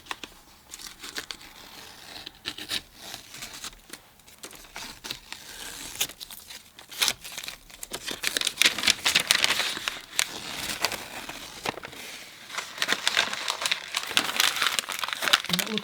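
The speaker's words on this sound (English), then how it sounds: "then we can just peel off the tape and sort of see how it looks" Masking tape is peeled slowly off watercolor paper, giving a long stretch of crackly tearing and crinkling that grows louder and denser partway through, close and alone.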